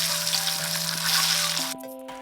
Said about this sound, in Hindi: तो बस अभी अंडा और आलू को फ्राई कर लेंगे।